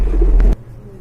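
Domestic pigeons kept for sale at a Bangladeshi pigeon market give a low, murmuring coo amid a busy background that drops away abruptly about halfway through the short stretch.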